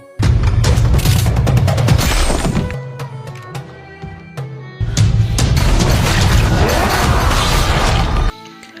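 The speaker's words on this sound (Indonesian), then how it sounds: "Namun tembakannya meleset dan mengenai wanita penghibur itu" Loud gunfire and crashing impacts in a dramatic film action scene involving a yakuza shootout, two dense bursts of blasts and smashing separated by a quieter dip, with no talking.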